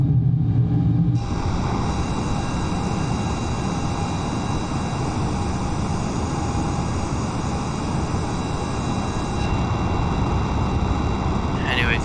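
The supersonic Darkwing military jet from the Flight Simulator 2020 Top Gun expansion takes off with a constant, loud engine roar and a steady high whine, while someone talks over it.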